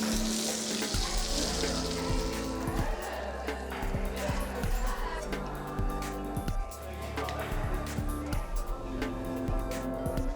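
Meat crisps in a pan with a little butter added at the end, a steady close sizzle mixed with clattering utensil knocks and a loud tonal hum, while a voice talks in the background.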